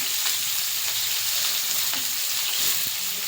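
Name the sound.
chopped onions frying in hot oil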